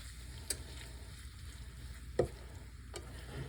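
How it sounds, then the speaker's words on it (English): Taco pie filling stirred in a pan, a soft steady scrape and faint sizzle with a couple of sharp utensil clicks against the pan, fairly quiet and with no talk. "go ahead and stir that around so it's just kind of all mixed through"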